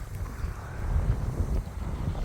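Strong wind gusts buffet the microphone at a fishing lake, a steady low roar that swells and eases without any voices.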